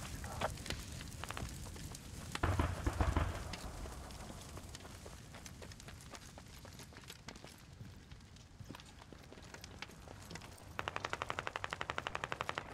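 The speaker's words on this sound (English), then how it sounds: "That is a lot of gunfire at once." Dense, rapid gunfire in the video game Squad rattles continuously in bursts, with a louder flurry near the start and sharp rapid-fire shots toward the end, loud and close.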